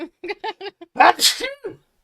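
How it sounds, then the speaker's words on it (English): A person sneezes loudly and close by, a sharp burst of air after a few short build-up sounds, with a brief voice sound before it. "You sneezed."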